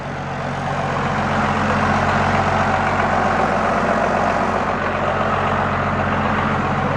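Dodge truck engine idling after its starter was cleaned, a steady loud low rumble with a constant hum, running evenly without pause and with no talk.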